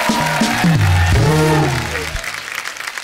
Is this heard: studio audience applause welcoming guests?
yes